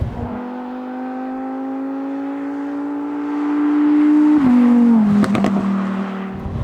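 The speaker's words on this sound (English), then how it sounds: "this car makes so much noise from its exhaust" A Lamborghini STO exhaust drones at a steady pitch, swelling louder before dropping sharply with a few crackling pops, close and loud with no voices.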